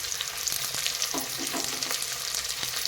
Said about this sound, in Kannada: ಎಣ್ಣೆಯಲ್ಲಿ ನಾವು ಫ್ರೈ ಮಾಡಬೇಕಾಗತ್ತೆ ಇದನ್ನು ನೋಡಿ.